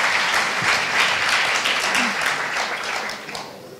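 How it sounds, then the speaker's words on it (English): Audience applause at a Pecha Kucha design talk night in Vienna, a lively burst of clapping from a crowd that swells early, holds, then thins out toward the end. "Applause for you"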